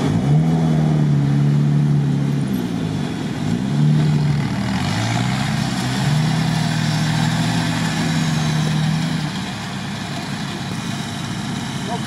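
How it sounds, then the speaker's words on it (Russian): Off-road vehicle engine churning through a nearly impassable swamp, a steady low rumble with rising and falling revs throughout, loud and close, easing off near the end. "Едет машинка нормально."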